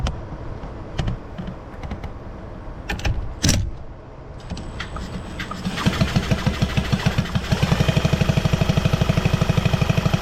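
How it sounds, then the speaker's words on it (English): A Sachs 505/1D 70cc motorcycle engine with an Athena kit, after some handling clicks and rattles, catches and starts, settling into a rapid, even two-stroke putter that runs loud and close to the end. "It helped if I turn the bike on."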